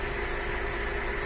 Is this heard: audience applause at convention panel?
no